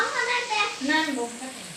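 Chicken liver hits hot, cooked-down spiced masala and sizzles hard for a moment. The sizzle is loud, close and brief, and a voice sounds faintly underneath it.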